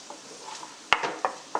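Chicken tikka curry with peppers and onions simmering in a pan, a soft sizzle under a few sharp metallic clinks and scrapes of a utensil stirring against the pan.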